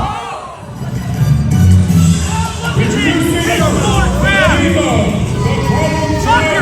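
A wrestling crowd at a live tag team event claps and cheers loudly and continuously, with whoops and shouts rising through a dense wall of crowd noise.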